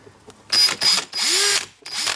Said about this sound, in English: that is all of those holes pre-drilled with a 2mm